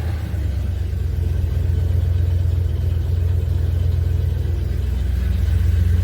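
A Chevy C10 pickup truck engine runs steadily while warming up, a deep, even idle rumble that stays close and loud throughout with no talking.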